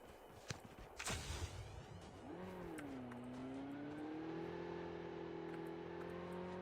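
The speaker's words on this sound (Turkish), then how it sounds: "Yanımızdan araç geçti drop'a" A vehicle in Call of Duty Mobile, a mobile battle-royale shooter, drives past with a rising, steady engine drone that swells and holds as it nears, after a few brief thumps and a burst of noise at the start.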